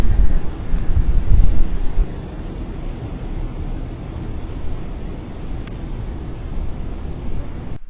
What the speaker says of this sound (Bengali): এখানে যে ফ্যানগুলো দেখছেন এগুলো সারাক্ষণ হাজিদের বাতাস প্রদান করে